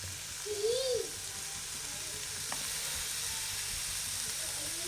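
Pepper powder hits hot oil in a pan for crab rasam, giving a soft, continuous sizzle with a faint stir near the start, quiet and close, no talking.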